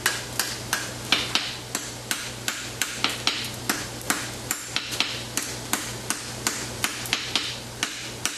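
A farrier rasps a concave caulk-and-wedge horseshoe fitted on a horse's hoof. Close, regular scraping strokes come at about two per second over a low steady hum, with no talking.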